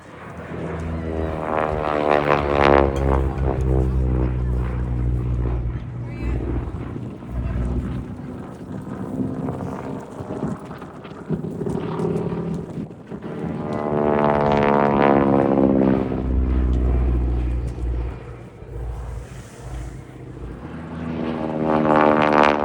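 A propeller aircraft built by Canadian Car and Foundry flies over an air show at Dalton Barracks, Abingdon, its engine drone swelling loud, fading mid-pass and rising again, with wind buffeting the microphone.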